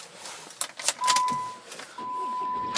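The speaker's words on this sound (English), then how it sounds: "So we'll jump in and start the car up." Keys jangle and clicks inside a car, followed by two steady electronic chime tones as the ignition is switched on, close and fairly quiet.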